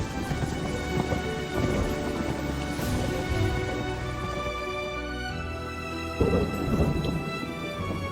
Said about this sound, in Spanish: Mientras la lluvia cubría los caminos,